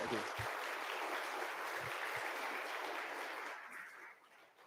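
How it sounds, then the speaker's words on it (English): An audience at a history talk gives a steady round of applause, dense and fairly soft, fading out near the end. "I think a round of applause"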